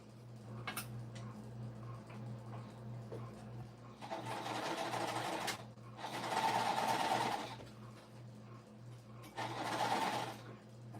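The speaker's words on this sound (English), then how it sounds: "So I'm gonna sew this one, since I'm attaching the row, it's the full seam allowance" A sewing machine runs in three bursts, stitching a full seam to attach a row on a puff quilt pillowcase, with a steady low hum underneath and quiet pauses in between.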